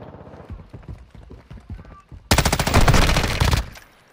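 Sustained automatic gunfire erupts in Call of Duty DMZ, preceded by a run of footsteps-like taps, then a loud dense burst of rapid shots lasting over a second before cutting off.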